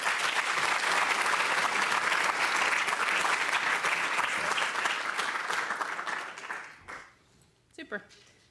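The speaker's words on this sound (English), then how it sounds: "Let's give a warm round of applause for Dr." Sustained, dense applause from a lecture audience at a Brain Awareness Week event welcoming Dr. Reyes, loud and steady for about six seconds before fading to a few scattered claps.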